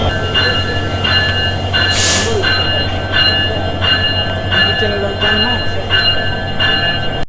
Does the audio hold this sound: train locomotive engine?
yes